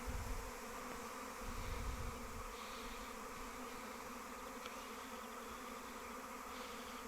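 A honeybee swarm buzzes steadily around a hive during swarm capture in May, a dense, continuous insect drone that fills the scene at close range with no talking.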